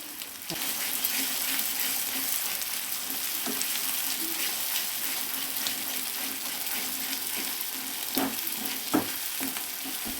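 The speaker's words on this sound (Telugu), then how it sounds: "మొత్తం పేస్ట్లన్నీ పట్టేటట్టు వేయించుకోవాలి 5 మినిట్స్." Masala paste for a restaurant-style paneer curry frying in a pan, a steady close sizzle and crackle running throughout with occasional stirring scrapes and clatters, no voices.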